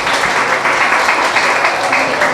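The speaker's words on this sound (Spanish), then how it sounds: "Un aplauso nuevamente para ella" An audience applauds a prize winner with loud, close, rapid clapping in a brief, dense burst lasting a couple of seconds.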